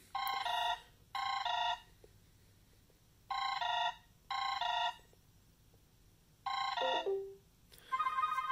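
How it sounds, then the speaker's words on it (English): A desk phone rings as the backup line for an Axis A8207-VE door station call, giving repeated paired electronic ring bursts with short gaps, loud and clear in a quiet room with no talking. "Now I'm going to let this phone just ring."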